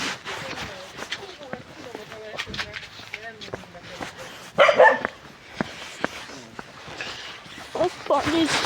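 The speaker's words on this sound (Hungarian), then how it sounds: "Itt is van kutya." A dog barks several times in short, sharp yips and woofs outdoors, up close, mixed in among people chatting nearby.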